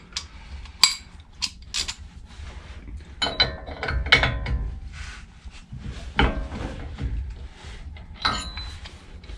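Bolts on a Dana 44 TTB axle are loosened with a ratchet wrench: close metallic clicks and clanks, a run of ratcheting and clattering tool sounds, irregular and moderately loud throughout.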